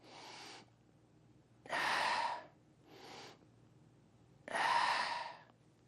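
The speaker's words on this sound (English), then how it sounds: "Try breathing through your nose as well." Four slow, audible breaths alternate between shorter inhales and longer, louder exhales, close and alone with a quiet room behind.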